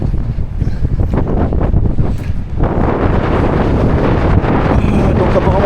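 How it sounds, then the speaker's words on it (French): Strong wind buffets the microphone at the hilltop Roman ruins and mausoleum of Tipaza, Algeria, a loud continuous roar and rumble that surges and lulls for the whole stretch with no clear voice over it. "Je ne sais pas si vous allez m'entendre bien parce qu'il y a pas mal de vent."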